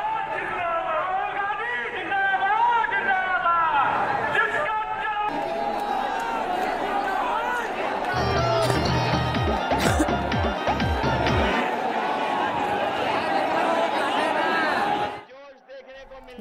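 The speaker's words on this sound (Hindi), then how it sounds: "यहां भी भीड़ जो है बेकाबू हो गई" An unruly crowd at a Rahul and Akhilesh political rally in Prayagraj roars in a dense, sustained wall of shouting and chatter, loud throughout, with heavy low thumps in the middle, before fading abruptly near the end.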